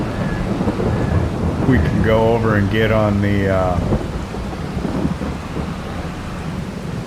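Rain falls steadily with a low rolling rumble of thunder in a Farming Simulator 22 game on a Missouri farm, someone talking briefly over the storm.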